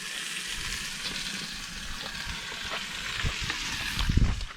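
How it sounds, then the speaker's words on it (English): Bacon frying in a pan over a propane stove in a camper van, a steady close sizzle and crackle that swells louder toward the end, with no one speaking. "Gonna be cooking bacon for the next hour."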